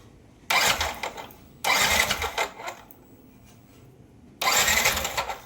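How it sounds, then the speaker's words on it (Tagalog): Three separate bursts of a Yamaha Nmax 155 scooter engine being cranked by its starter, each about a second long with pauses between, loud and close, with the engine failing to catch despite compression, spark and fuel. "Subukan natin i-push start yung motor"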